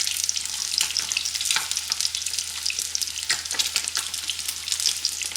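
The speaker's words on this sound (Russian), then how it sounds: "Пока жарится оставшаяся рыба, предлагаю отдегустировать, что у нас получилось." Steady, dense sizzling of freshly caught fish frying in hot oil, close by, with crackling pops throughout and no talking.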